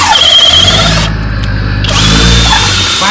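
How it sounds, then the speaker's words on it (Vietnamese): A FLEX 24V FX1271T cordless drill runs loud and close while drilling, its motor whine holding steady, then briefly bogging down under load before spinning back up. "Khoan miết miết à, máy chạy miết luôn anh."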